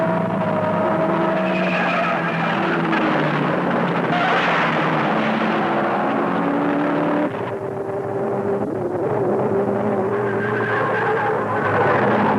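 An Indy race car crashes at around 200 mph, with a loud, sustained roar of engine and skidding tires that surges and fades over several seconds, no talk heard.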